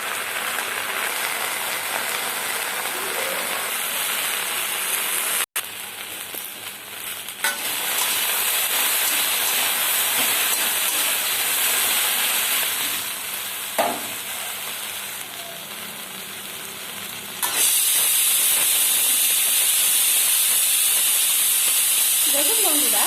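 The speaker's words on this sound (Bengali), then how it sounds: "গরম সরিষার তেলে আমি ঢেঁড়স, আলু, টমেটো, পেঁয়াজ সমস্ত আমি ভালোভাবে ভেজে নেব।" Okra, potato, tomato and onion frying in hot mustard oil give a loud, dense, continuous hiss and sizzle that swells sharply near the end, with faint talk underneath.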